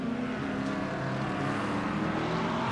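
Race car engine in iRacing at Lime Rock Park in the rain, a steady droning roar with shifting pitch, heard from a distance behind other cars.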